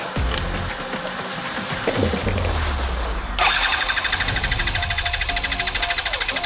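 Jonway 50cc scooter engine with a fuel-starved no-start fault, cranking roughly, then catching and running with a loud, rapid, pulsing idle, close up.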